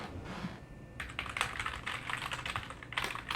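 Keys clatter on a PowerMac G4 computer keyboard with a faulty bottom row, in quick, irregular bursts of presses, close and moderately quiet, with no voices.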